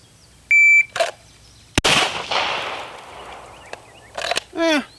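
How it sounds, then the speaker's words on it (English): Electronic shot timer beeping at a shooting range: a short steady high beep, then a sharp loud gunshot with a decaying echo, and a second beep near the end, with no speech. "So I'm going to go ahead and use my shot timer here."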